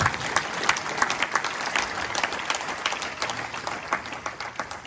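A wedding congregation at a church ceremony applauding and cheering in praise, a dense continuous wash of clapping hands from a large crowd, steady and loud throughout without pause.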